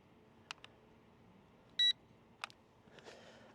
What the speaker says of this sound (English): we'll hear a beep when we do it horizontally